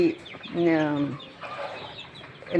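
A chicken clucks in drawn-out, nasal calls, two longer ones and a short one at the end, fairly close and clear, while being fed black soldier fly larvae.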